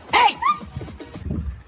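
A human voice imitating a dog barking gives two quick, close, loud yelping barks, followed by a lower, muffled vocal sound.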